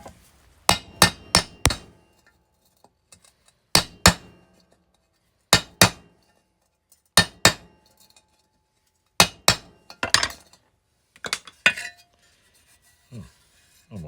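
Hammer strikes driving a punch into a rusty metal part, sharp metallic clinks landing in quick bursts of two to four blows separated by pauses, close and loud with no talk.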